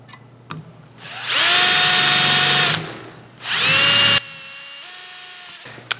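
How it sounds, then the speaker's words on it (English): A power drill drilling a hole whines up loudly twice in close bursts, the second ending abruptly, followed by a quieter motor spin-down and a couple of clicks. "I'm going to drill a hole."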